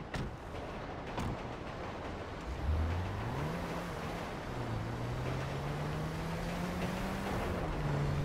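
A car in Grand Theft Auto drives along with a steady engine drone that rises in pitch as it accelerates, over a constant rushing background noise.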